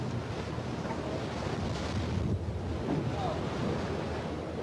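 Rough ocean surf and wind noise churn steadily around a sinking ship, a dense, continuous wash of waves close to the microphone with no clear breaks.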